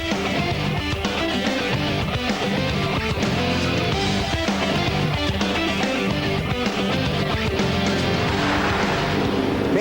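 NASCAR Winston Cup stock cars restarting at Phoenix in 2004 after a red flag, a loud, unbroken roar of many engines with bursts of tire noise running the whole way through, with no voices.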